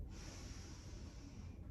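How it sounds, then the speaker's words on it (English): A slow, steady breath drawn in during beginner hip-opening yoga practice, a soft continuous airy hiss close to the microphone lasting under two seconds, with no talk. "Find your breath, inhale."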